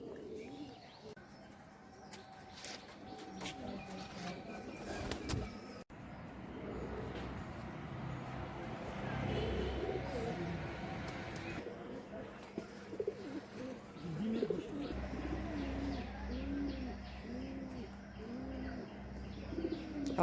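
Domestic pigeons, a Pakistani female and a fancy breed among them, coo in repeated soft rolling calls close by, with scattered chirps and a brief flutter of wings, while someone talks at times.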